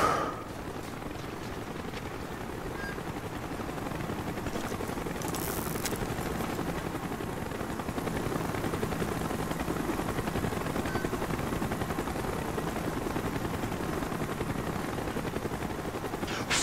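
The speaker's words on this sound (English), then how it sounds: "Chopper's inbound! Move it!" A helicopter in the Call of Duty Black Ops campaign makes a continuous rotor roar that holds steady and swells slightly as it draws closer, with no talk over it.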